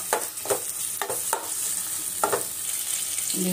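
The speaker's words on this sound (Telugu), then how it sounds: "పచ్చిమిరపకాయ కొద్దిగా వేయగా టమాటా వేద్దాం." Tomato goes into a frying pan already holding onions, curry leaves, cumin and green chili, giving a steady sizzle with several soft stirring scrapes and taps, close by, with no talk.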